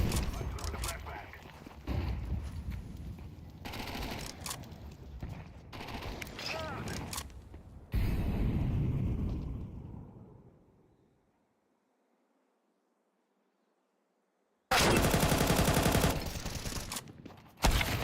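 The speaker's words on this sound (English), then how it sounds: "I'm throwing a flashbang" A flashbang and bursts of gunfire ring out in a Counter-Strike 2 match, loud sharp volleys and blasts in clusters, then a few seconds of near silence before another loud burst, with a player talking in between.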